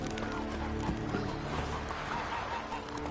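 Horse in The Witcher 3 galloping, with rhythmic clip-clop hoofbeats close by and a whinny near the start, under light background game sounds.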